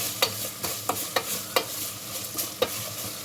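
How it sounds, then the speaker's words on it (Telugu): Ginger garlic paste fries in hot oil for a gongura dry prawn curry, a steady sizzle broken by about eight sharp scrapes of a spoon stirring against the pan at an uneven pace. "అల్లం వెల్లుల్లి పేస్ట్ బాగా ఫ్రై అయిందండి ఆయిల్లో."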